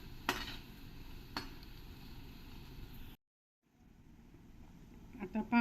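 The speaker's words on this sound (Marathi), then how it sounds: "आता पहा, आपले बोंडे तळून होत आहेत, अजून व्हायचे आहेत, अर्धवट झाले आहेत." Sabudana bondas deep-frying in peanut oil, a soft continuous sizzle and hiss that briefly cuts out, then returns with a few clinks near the end.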